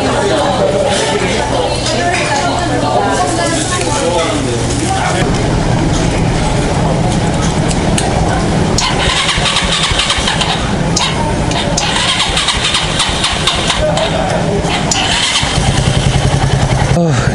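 A classic motorcycle's engine cranks and catches after its battery went flat, then runs with a loud, rough, continuous rumble close by, with a voice talking over it.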